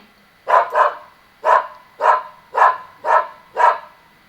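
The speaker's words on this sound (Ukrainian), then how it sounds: "Так, це цуценя." A puppy barks seven times in short, sharp yaps, close and clear against a quiet background. The first two come as a quick pair and the rest follow at an even rhythm.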